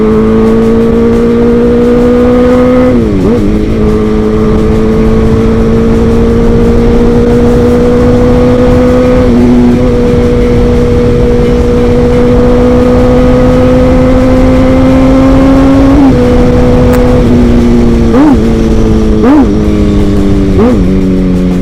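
A Yamaha RX King two-stroke motorcycle engine revs loudly and steadily up close during a street chase with a 600cc sport bike, its pitch holding, dipping and climbing again in several sharp shifts.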